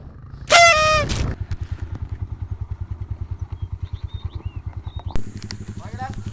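Motorcycle engine on a mountain trail, steady rapid putter with a throttle burst and a horn-like honk near the start, a second rev near the end, with people talking over it.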